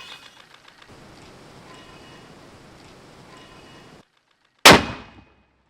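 A single sharp, loud mortar shot fired by Ukrainian forces in combat bursts out after a stretch of low rumbling and a brief silence, then fades quickly.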